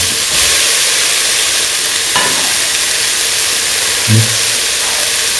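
Tomato pieces fry in a pan for a coconut milk rice dish, giving a loud, steady sizzling hiss. A few faint knocks of stirring break through it, with no talking.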